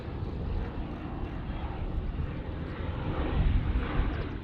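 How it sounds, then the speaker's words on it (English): A 1940-era RAF propeller aircraft flies a display at the Duxford airshow, its engine drone steady and moderately distant, swelling slightly as it passes, with no talk over it. "An aircraft that was the most numerous in the whole of the RAF when war was declared against Germany"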